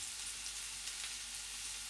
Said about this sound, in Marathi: आता यामध्ये आपल्याला पाणी घालायचं आहे.